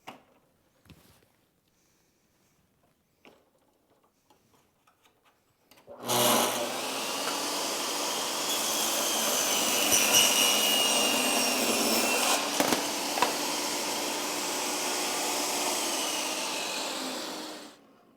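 A table saw fitted with a chosen blade rips oak-veneered plywood along the fence. It opens with quiet clicks and handling noise, then gives a loud, sustained whining cut lasting about twelve seconds before winding down.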